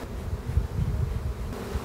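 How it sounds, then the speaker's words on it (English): Honeybees droning steadily inside an open hive during a beekeeping inspection, a continuous low, dense hum at close range with no voices. "The sound of these bees, when you've worked bees as long as I have, a pretty happy sound of bees"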